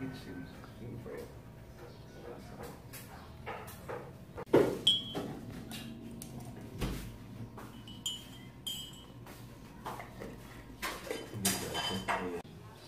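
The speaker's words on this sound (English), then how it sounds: "And Jenny is on the kitchen cooking for it." Dishes and pans clink and rattle in a hostel kitchen at Casa Isabel's on Bantayan Island, Cebu, as breakfast is cooked, with scattered clatters and a few sharper knocks under ongoing conversation.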